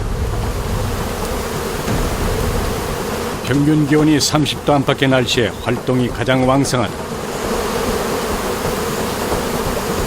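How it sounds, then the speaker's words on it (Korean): A loud, steady buzz from a swarm of Indonesian honeybees at a nest high in a tall tree runs through the whole clip. A narrator speaks over the middle section. "주로 20-30m 이상의 높은 나무에 집을 짓는 인도네시아의 꿀벌."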